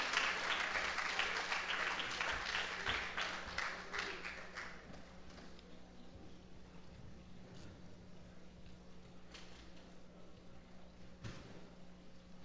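A church congregation applauding gives loud, dense clapping that fades after a few seconds into sparse claps and quiet room noise with a steady low hum.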